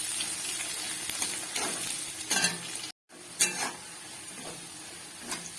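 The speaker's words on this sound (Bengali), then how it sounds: "পেঁয়াজটাকে একটু ভালো করে ভেজে নেব।" Chopped onions frying in hot oil for a mixed vegetable dish, a steady sizzle broken by repeated scraping stirs of a spoon in the pan, close and moderately loud, with a brief gap partway through.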